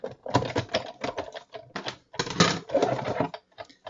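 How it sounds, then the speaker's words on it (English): A Big Shot die-cutting machine being cranked with cutting plates and a butterfly die, producing close, irregular bursts of clicking and rattling grinding in quick succession, with brief pauses between. "And then we're going to run it through the Big Shot."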